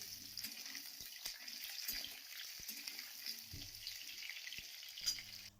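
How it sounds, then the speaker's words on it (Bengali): Vegetables sizzle in hot oil while being stirred for a chicken stew, a constant close hiss punctuated by sharp scraping and knocking from a utensil against the pan, with occasional low clatter. "এখন সমস্ত সবজিগুলো আমি তেলের মধ্যে দিয়ে দিচ্ছি আর একটু নাড়াচাড়া করে নেব।"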